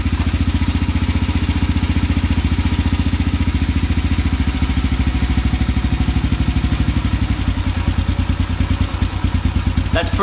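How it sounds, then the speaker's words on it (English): A carburetted engine idles at very low RPM, a loud, close, rapid thumping putter with a slightly uneven rhythm that holds steady for about ten seconds. "I'm gonna put this thing at a very low idle"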